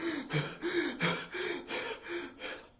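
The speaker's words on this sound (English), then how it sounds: "anxiety is like taking a bunch of long, deep, fast breaths, right?" Rapid, deep breaths in and out, about seven quick rhythmic gasps in a row, close and fairly soft, like someone panting.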